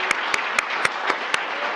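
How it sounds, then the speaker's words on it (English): Six slow, evenly spaced hand claps ring out over a soft background wash at a health talk event, a sparse round of applause for two speakers. "Let's give a round of applause for Joanne Kawahigashi Oshiro and King Mabua."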